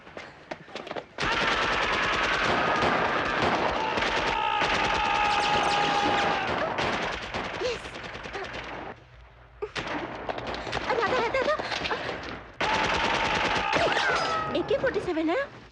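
An AK-47 assault rifle fires in long, loud automatic bursts in an action-film fight scene, with a brief lull before the shooting resumes, and voices mixed in.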